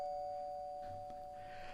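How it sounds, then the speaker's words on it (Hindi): A doorbell rings once with a clear, sustained electronic tone at a house door, fairly close and alone, with faint room rustle underneath. "घंटी बजाई जाती है।"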